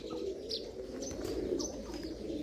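Pigeons coo softly and repeatedly inside a crowded loft holding a few hundred birds, with faint chirps and occasional wing flutters in a low, steady backdrop.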